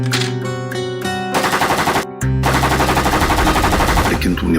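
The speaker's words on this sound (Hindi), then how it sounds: "इस AK-47 की आवाज से कोई ना कोई आएगा।" AK-47 rifle fire in a forest during a crime drama scene: sustained rapid automatic bursts, loud and close, over music, with no speech.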